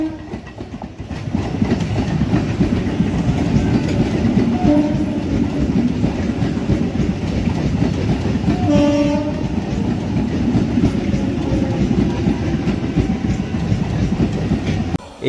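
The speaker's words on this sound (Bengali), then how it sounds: "আমাদের একটি ট্রেন ঢুকছে।" A train rolls into platform 3 of Krishnanagar City Junction station with a continuous heavy rumble and clatter of wagons. A short horn blast sounds midway, close and loud.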